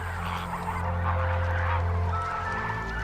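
Water birds at Sambhar Lake in Rajasthan, a wetland visited by flamingos, pelicans, storks and herons, honking in a steady goose-like chorus over a constant low hum, with no talk heard.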